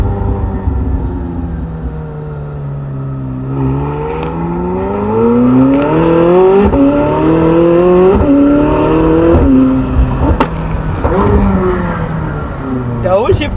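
A McLaren 600LT Spider in sports mode revs and downshifts, its engine note climbing and dropping repeatedly with sharp blips between gears. The car is loud and close inside the cabin, and someone speaks faintly underneath.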